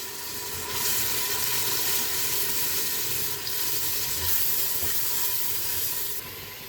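A masala of tomatoes, salt, chili and turmeric fries in a pan for dhaba-style dal mash, giving a steady, close hissing sizzle that runs unbroken with no talking.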